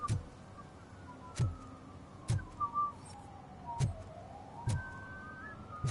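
A character whistling a sliding, wavering tune in the video game RoboCop Rogue City, punctuated by regular heavy thudding steps, moderately faint.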